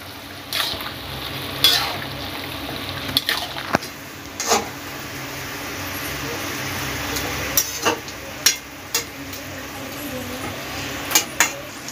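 Gravy for a jackfruit Manchurian heating in a pan, a steady low bubbling and hiss underneath, broken by several sharp clinks and scrapes of a utensil against the pan; close, with no speech.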